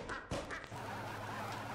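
A brief, faint duck quack in a video game, two or three short nasal calls over low background noise.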